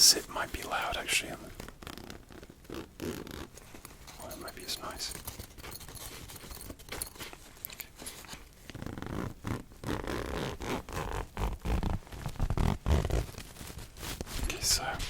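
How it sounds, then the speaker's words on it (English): Rough rasping zipper pulls on a photography reflector case, heard close and quiet, interspersed with soft handling noises and low whispered speech. "the zip might be loud actually."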